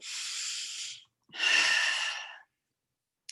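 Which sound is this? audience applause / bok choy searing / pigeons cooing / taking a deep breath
taking a deep breath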